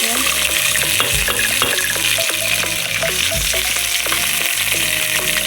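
Curry leaves crackle and sizzle loudly in hot oil for a tomato dhal, a steady close-up frying hiss with bursts of spitting and occasional stirring clinks.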